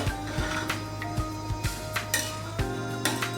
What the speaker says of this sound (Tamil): இப்போ நல்லா கிளறி விட்டுக்கலாம்.